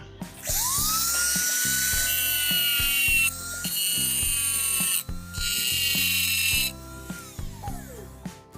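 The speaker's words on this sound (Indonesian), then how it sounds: "Menggunakan mata gerinda mini yang model seperti ini. Langsung kita coak ya." A mini grinding disc cuts a notch during a PCX160 headlight retrofit, whining loudly and steadily with pitch shifts as it bites and eases, alongside rhythmic clicking, with brief pauses between passes.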